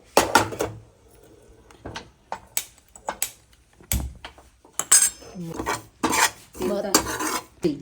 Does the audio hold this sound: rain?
no